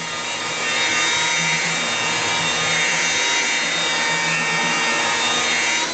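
A rotary buffer polishes the clear coat on a Camaro, producing a continuous close whirring hiss that rises as the machine spins up after half a second and then holds steady, with no talking.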